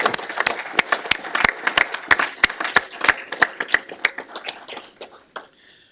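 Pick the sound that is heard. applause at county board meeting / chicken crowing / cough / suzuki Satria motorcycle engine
applause at county board meeting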